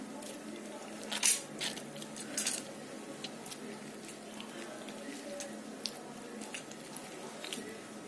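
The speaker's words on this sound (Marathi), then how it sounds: "दोन्ही आंबे आपण असे पिळून घेणार आहोत।" Ripe mango pulp is squeezed by hand into a bowl, producing soft, wet squishing and squelching bursts close up, with a louder squeeze near the start and quieter intermittent squishes after.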